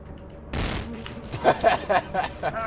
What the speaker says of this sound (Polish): Ała, wreszcie mi to wybuchło.